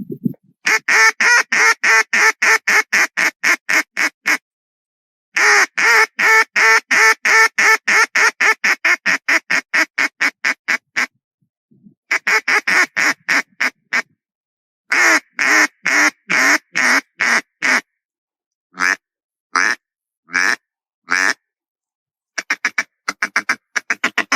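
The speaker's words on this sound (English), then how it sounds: "Also got one of the DJ Rivers single reed wooden coolers. This is the 128." A DJ Rivers 128 single-reed wooden duck call blows loud hail calls for high, windy big-water days: long runs of rapid, evenly paced quacks broken by short pauses, close and alone.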